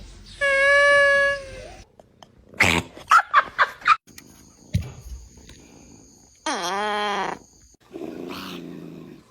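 A kitten making odd vocal noises: a long sustained whine, then a burst of short chirpy squeaks, then a wavering drawn-out yowl and a low grumbling sound, all close and alone with quiet gaps between.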